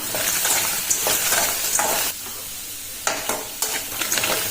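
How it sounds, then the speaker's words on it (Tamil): Chopped bottle gourd sizzles in a hot kadai while a spatula scrapes and stirs it, a steady frying hiss broken by several sharp stirring scrapes and a brief quieter pause, close and clear with no talk. "சொரக்காயில் தண்ணி சுண்டுற அளவுக்கு நல்லா வதக்கி எடுத்துக்கணும்."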